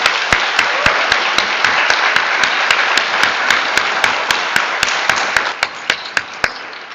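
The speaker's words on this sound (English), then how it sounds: "give these graduates a round of applause" Sustained applause from a large crowd at a graduation commencement ceremony, steady and dense, with a few sharper individual claps standing out above the wash.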